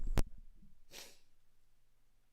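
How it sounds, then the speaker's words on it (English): A single sharp sneeze from a person streaming a game, loud and close, followed by a softer breathy exhale trailing off. "I'm gonna sneeze again."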